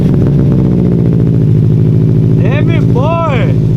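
A car engine runs loud and steady throughout, with a deep rumbling drone, while a voice speaks over it partway through.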